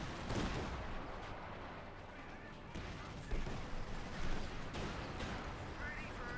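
Artillery fire in Company of Heroes 2, a real-time WWII strategy game, heard as a continuous dense rumble of booms and blasts with a couple of heavier impacts, played under low commentary.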